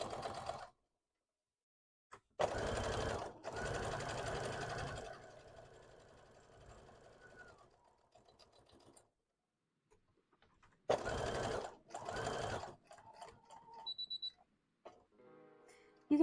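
A sewing machine stitches a Pokemon hat indoors in loud, close bursts of rapid whirring. Two long runs come early, then a quiet stretch with faint clicks, then two more short runs near the end.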